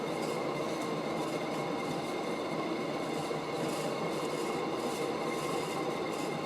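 A glossy black Casablanca Delta II ceiling fan spins at speed, a steady whooshing hum with a faint rhythmic pulse from the blades, constant and fairly quiet, with no talk.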